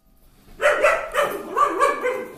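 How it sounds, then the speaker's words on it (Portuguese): A pet dog indoors gives a short run of four or five sharp, fairly loud barks in quick succession, heard alone with no talking. "Até a minha cachorra ficou nervosa"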